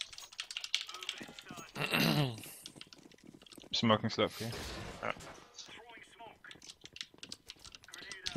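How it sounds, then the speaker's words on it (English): Clicky computer keyboard typing during a Counter-Strike match on Mirage, scattered rapid key clatter under players talking over voice chat. "What the fuck is that keyboard, man?"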